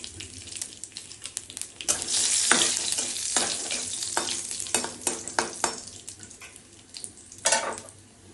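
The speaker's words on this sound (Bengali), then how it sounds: "জিরা দিচ্ছি" Black cumin and dried red chillies sizzle in hot oil for a Bengali potol chingri bata, a close, steady crackling hiss with bursts of spattering and faint utensil scrapes, no voices.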